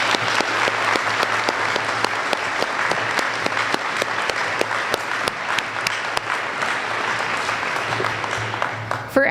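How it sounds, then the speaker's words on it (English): Sustained applause from a commencement ceremony audience at M State Fergus Falls, dense steady clapping filling the room for the whole stretch at an even level. "Please join me in a round of applause celebrating the brave, inspiring, and talented students we have the honor to teach and serve at M State."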